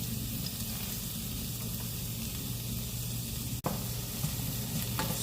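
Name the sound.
curry leaves, garlic and dried chillies frying in oil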